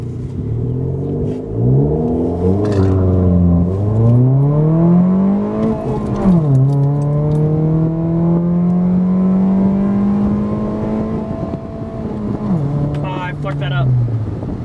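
A chip-tuned Ford Fiesta, loaded with cargo, pulls out onto the road and accelerates hard: loud, close engine revs climb through the gears with brief dips at each shift, under occasional talk.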